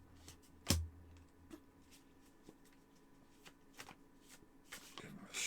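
Tarot cards being shuffled by hand, a sharp riffle burst near the start followed by soft, scattered card flicks and taps, quiet and close in a calm room.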